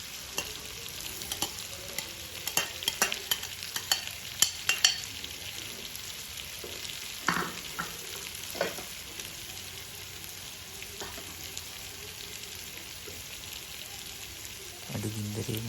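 Carrots and leeks frying in a pan for a quick rice dish, with a continuous soft sizzle and scattered clicks and scrapes of stirring, moderately loud and close, with no talk.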